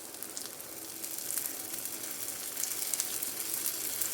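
Banana ada cooking in ghee in a pan, a steady close sizzle with a faint crackle that holds evenly throughout, with no voices.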